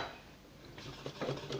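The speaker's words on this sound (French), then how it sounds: "Et je remue." A silicone spatula stirs a dark chocolate mixture in a bowl for a microwave chocolate fondant, giving quiet, close scraping and clinking taps against the bowl, a few irregular strokes growing slightly busier toward the end.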